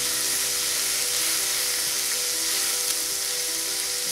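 Chopped garlic and ginger sizzle in a hot pan with a steady, loud, bright hiss and fine crackle that keeps going without a break. No voices are heard.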